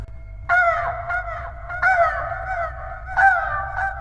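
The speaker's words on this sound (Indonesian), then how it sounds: "langkah kaki mereka memang disambut dengan suara burung gagak" Four harsh, drawn-out bird caws, clear and fairly near, separated by short pauses over a low rumbling background.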